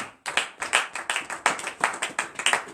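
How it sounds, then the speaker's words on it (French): A church congregation at morning prayer claps in rhythmic acclamation, about a dozen loud, crisp unison claps in a quick steady beat, close and clear with no voices over them. "Donnez l'acclamation à Jésus."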